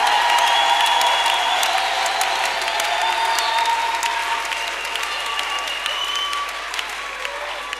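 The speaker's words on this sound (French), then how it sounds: "Acclamez le Seigneur" A church congregation in Bunia, Ituri, DRC applauds and cheers at a Friday night service. Dense, steady clapping fills the space with a crowd roar underneath and sustained tones running through it, slowly easing in level.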